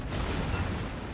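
Naval gunfire in the World of Warships video game, a dense, continuous rumbling boom of heavy artillery that fills the whole brief moment at moderate loudness, with no voices over it.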